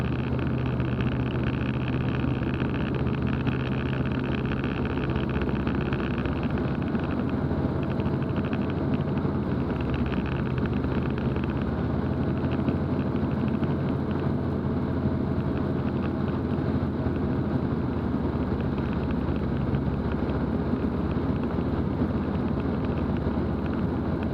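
A continuous droning light aircraft engine hum on landing approach, a steady buzzing tone, loud and unchanging throughout, no voices.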